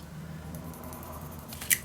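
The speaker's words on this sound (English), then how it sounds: "I'm going to cut this piece of paper" Scissors make a single quick snip through a piece of paper for a scrapbook mini album, a short crisp cut near the end of a quiet stretch of faint background hum, close by and with no talking.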